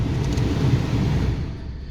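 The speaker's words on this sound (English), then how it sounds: "As you can hear, the car is still running though." The engine of a front-end collision-damaged 2019 Peugeot 208 hatchback idles, a low steady rumble close by for two seconds with nothing else heard.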